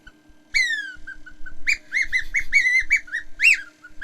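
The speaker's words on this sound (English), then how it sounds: "I don't think this is a seagull, but it's definitely a bird. Very small bird." A small bird chirps in a quick series of bright, high notes, clear and close, with short pauses between bursts.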